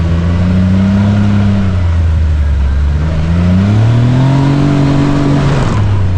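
The smooth three-cylinder engine of a CFMOTO Z10 UTV drones loudly and rises in pitch as it accelerates, easing off briefly before revving up again.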